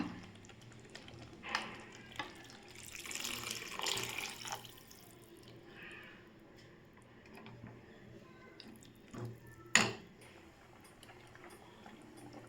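Strained tamarind water poured into a cooking pan of sautéed vegetables for a yam tamarind curry, a soft splashing pour with a few louder sloshes and drips, faint and close.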